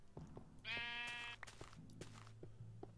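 Sheep in Minecraft giving a single loud wavering bleat lasting under a second, set among light clicks and soft background game sounds.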